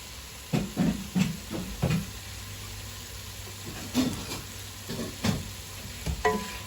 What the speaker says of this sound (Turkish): Ben bunu 10-15 dakika böyle içinde kavuracağım.